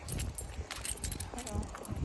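A bunch of balcony keys jangles and clinks close by, a quick metallic rattle that keeps going for a couple of seconds.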